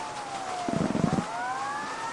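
A faint wailing police siren in a video game sweeps slowly across the background, with a short burst of muffled thumping in the middle.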